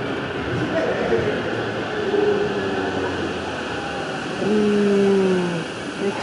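A Tokyo subway train rumbles at a station during rush hour, its rolling noise steady and fairly close, with brief tonal squeals and swells as cars pass, and faint voices in the background.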